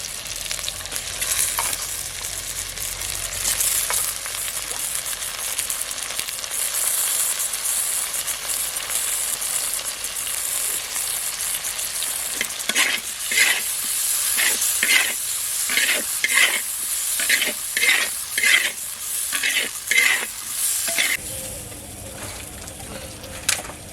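Hot oil sizzles steadily, then a burst of frying as lentils are added, with repeated stirring scrapes in a quick rhythm before the hiss settles down.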